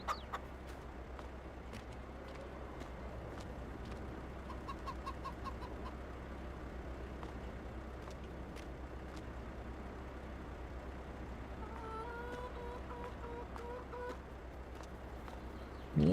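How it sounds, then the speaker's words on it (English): Chickens cluck and squawk in a farmyard, intermittent calls scattered over a steady low background hum, fairly faint and without talk. "Noisy chickens."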